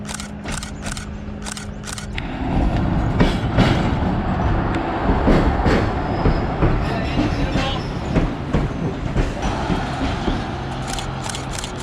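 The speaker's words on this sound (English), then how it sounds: "we're going to hang around and see the train hopefully arrive in" A Steam Ranger heritage train arrives at a station on the Victor Harbor line in Australia, with rumbling wheels and clickety-clack on the rails growing louder and staying close, plus a few sharp clicks early on.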